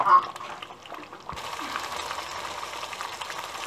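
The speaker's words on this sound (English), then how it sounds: "Continue frying for another few minutes till it becomes slightly more brown" Steady sizzling of lamb or goat rendang curry frying in a pan, with faint scraping from stirring, close and moderately loud.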